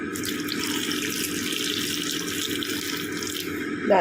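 Continuous stream of water pouring into a container, steady and close, rising slightly at the very end.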